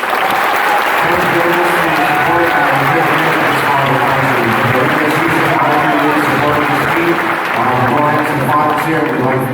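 Loud, dense applause and cheering from an arena crowd at a basketball championship semifinal, steady and continuous throughout, with a voice faintly mixed in.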